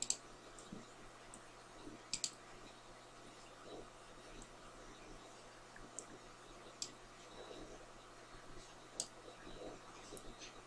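Mouse buttons click now and then while someone works in Microsoft Paint. The clicks are faint, sharp and scattered, some in quick pairs, over a low steady hum, with no talk.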